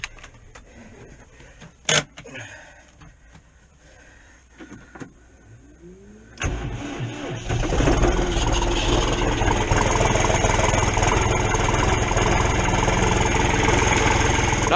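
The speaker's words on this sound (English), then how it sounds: "tractor will start." A farm tractor's engine cranks and catches after a few quiet clicks and handling noises, then settles into a loud, steady idle that runs continuously to the end on a cold morning of about 18 degrees.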